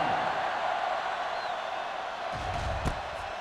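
Stadium crowd at a football kickoff, a steady distant roar of many voices, continuous and broad, with a brief thump near the end and faint commentary mixed in.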